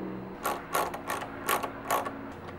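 Parts of a homemade train horn diaphragm are tightened down with a ratchet, producing five short, crisp bursts of clicking at an even pace, close and fairly quiet, with no talk.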